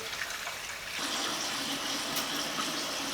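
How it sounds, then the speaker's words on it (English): Water pours steadily into a cooking pot for a ham and bean dish, a continuous soft rushing gush, close and moderately quiet, with no talking. "we want to add 4 or 8 cups of water"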